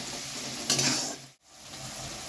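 Onions with salt stir-fried in a kadai for a Bengali coriander chicken dish, a steady close sizzle with a louder scraping stir burst, a brief dip, then frying resumes alone.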